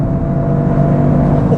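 A 2025 Toyota GR automatic with a turbocharged engine revs high and holds its revs, a loud, steady engine drone heard from inside the cabin.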